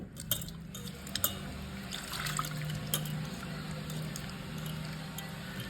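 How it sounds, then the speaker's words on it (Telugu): Water is poured into a pot of raw eggplant pulusu (vankaya pachi pulusu), a steady liquid fill with small splashes and trickles, fairly quiet and alone. "ఇప్పుడు ఇందులో వాటర్ వేసుకోవాలి"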